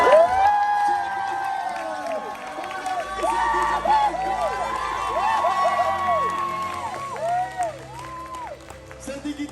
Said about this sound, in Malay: Setinggi-tinggi tadi kita ucapkan tepukan paling gemuruh untuk Cikgu Puan.